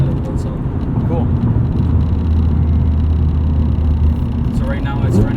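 Engine of a supercharged 1998 BMW E36 M3, running the factory engine, heard from inside while driving: a steady, loud low drone and whir with road rumble throughout, and someone talks over it.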